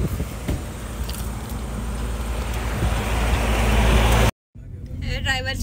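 A car drives along a highway with a steady, close road and engine rumble heard from inside the cabin, then a brief cut and faint voices under continuing road noise.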